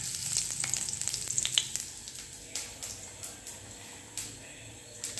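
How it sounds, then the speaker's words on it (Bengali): Cumin seeds dropped into hot oil for tempering a home-style fish curry crackle and sizzle quietly at close range, with a dense burst of pops at first that thins to scattered, softer ticks. "এবার তেলের মধ্যে দিয়ে দেবো আমি জিরা।"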